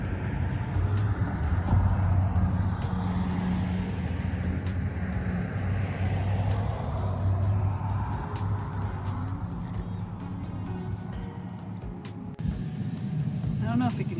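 Passing cars on a road beside Yellowstone Lake at Steamboat Point, a steady broad traffic rumble that stays loud throughout, with a person talking over it.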